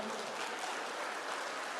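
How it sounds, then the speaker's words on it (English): An audience at an entrepreneurship summit in a Hyderabad exhibition hall claps in a dense, continuous round of applause, heard at a moderate distance. "Guys, can we put a big round of applause?"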